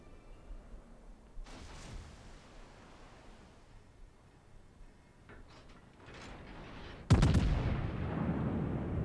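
In World of Warships, the battleship Missouri fires armor-piercing shells toward the Tirpitz: a distant boom at the start, then a much louder, heavier salvo blast near the end that leaves a sustained rumble over a quiet game background.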